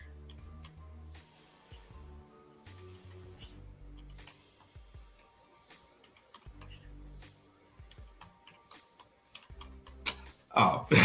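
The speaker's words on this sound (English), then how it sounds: "So look at the keyboard." Scattered key clicks on a computer keyboard sound close by, broken by pauses and low background hum, then a louder burst near the end.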